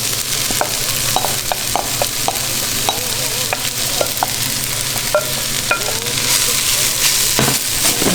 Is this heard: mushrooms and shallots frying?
yes